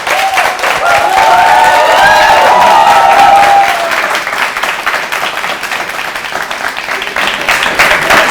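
Studio audience applause at the end of an interview show, loud sustained clapping throughout, with a voice speaking over it in the first few seconds.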